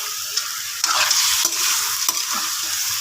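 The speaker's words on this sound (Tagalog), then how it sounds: "So yan, ginisa ko muna yung mga ulo." Fish heads sautéed in a pan with plenty of ginger, onion, garlic and tomato give a steady, close sizzle with repeated stirring scrapes and clatters, and no talking.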